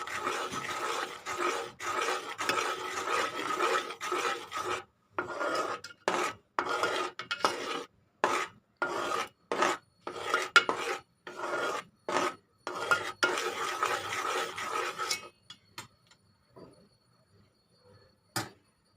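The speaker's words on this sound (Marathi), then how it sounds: "ह्यात आपण आता एक चमचा तूप टाकणार आहोत मिक्स करून घ्यायचं आपल्याला" A spoon scrapes and stirs a sesame and jaggery ladoo mixture with ghee in a pan, giving repeated rasping, gritty strokes in steady bursts that slow and thin out toward the end, close and without talk.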